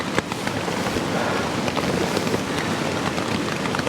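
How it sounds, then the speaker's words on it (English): Dense, heavy rain from a thunderstorm hammers a tent overhead in a close, continuous roar, with sharper drops pattering throughout, on the UK moors. "it is extremely heavy rain"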